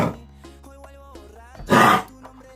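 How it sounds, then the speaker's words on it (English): A puppy with kennel cough whimpers faintly, then gives one harsh, forceful hacking cough lasting about a quarter second, close to the microphone in a quiet room. "Someone has kennel cough."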